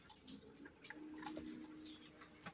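Breeder pigeons in a loft, with soft low cooing and light pattering and scratching movement in close quarters, faint and continuous with no speech.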